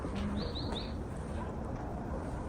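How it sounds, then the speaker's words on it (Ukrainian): A few short, high bird chirps in quick succession over a constant low outdoor rumble beside a house terrace, then only the background hum remains. "А тут співають пташки."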